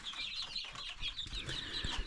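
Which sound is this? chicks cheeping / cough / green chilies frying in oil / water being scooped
chicks cheeping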